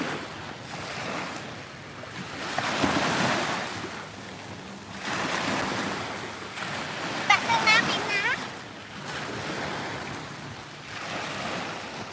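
Sea waves roll onto a beach during a family seaside trip with small children, surging and receding in steady swells every few seconds, with wind buffeting the microphone and faint voices in the background.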